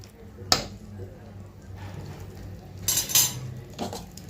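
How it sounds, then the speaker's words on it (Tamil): A spoon scrapes and knocks against a metal pan while tomatoes are stirred with salt for a Tamil mutton kuzhambu, giving a few sharp clacks and brushing strokes over a low background hum, with no speech. "சால்ட்டு சேர்த்ததும் நல்லா மிக்ஸ் பண்ணி விட்டுப்பாங்க"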